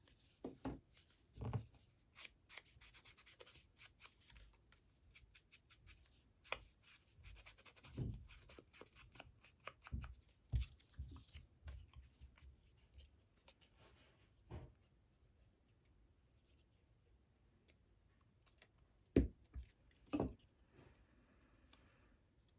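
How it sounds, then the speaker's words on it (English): Scissors cutting paper for a belly band in a papercraft journal project, a series of quiet, close snipping and rubbing sounds scattered irregularly, with a few sharper cuts near the end. "Let's see, I'll just cut it."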